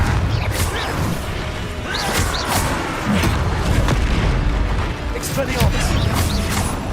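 Confringo spell explosions in the Hogwarts Legacy video game, dense continuous crashing blasts and rumbling booms with whooshing spell effects, loud and busy throughout.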